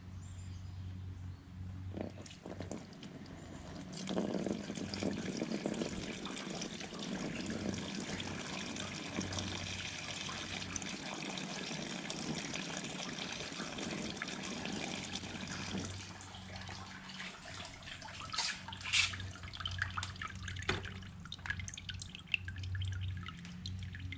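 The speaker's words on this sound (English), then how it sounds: "Looks like the water is flowing clearly." Water runs steadily through the cleared soft-top drain of a Toyota MR2 Spyder, a continuous close trickle and splash that eases off partway, then gives way to scattered drips.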